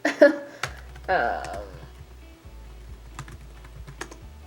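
Keys clacking on a computer keyboard in irregular bursts and single taps, close and fairly loud, after a couple of brief voice sounds at the start.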